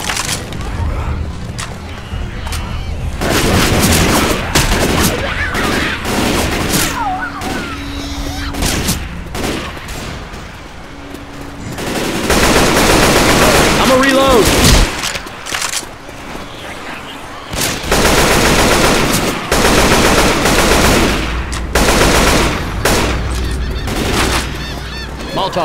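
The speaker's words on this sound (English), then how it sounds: "Shoot the armored zombies in the back" Rapid gunfire in a zombie shooter video game while players fire on armored zombies, loud and dense bursts across most of the stretch, with game sounds and brief pauses between volleys.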